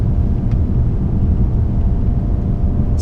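A BMW 530d xDrive diesel engine from 2017 drones as a steady low rumble heard from inside the cabin, loud and constant, with no distinct rise in pitch showing.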